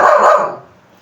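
A single loud, close dog bark rings out at once and then fades quickly into quiet.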